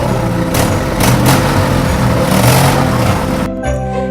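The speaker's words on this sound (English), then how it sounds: "very soon they could hear his truck motoring towards them" A loud truck engine hums and rumbles steadily in a cartoon, swelling slightly as if approaching, then cuts off abruptly near the end.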